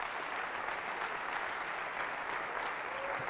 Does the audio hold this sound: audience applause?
yes